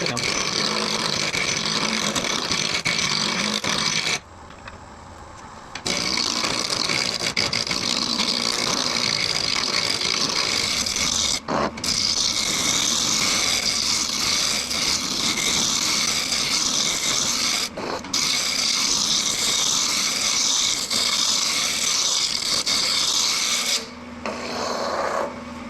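Wood lathe roughing down a spinning ornament blank with a 7/8 spindle roughing gouge, a loud continuous rasping cut that runs on and on, broken by a few brief pauses where the tool lifts off.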